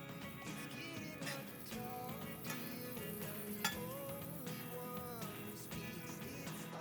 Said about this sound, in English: I'm adding some earth balance to our hot pan